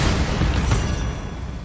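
Bombarda explosion spell cast in Hogwarts Legacy, a single heavy booming blast with a rumbling low-end tail that fades out over about a second.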